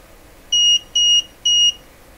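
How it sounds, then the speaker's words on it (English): Mustool MT8206 meter giving three short, evenly spaced high-pitched electronic beeps as an over-voltage warning, clear and close in an otherwise quiet background. "So it beeped three times and it put this lightning bolt symbol on there."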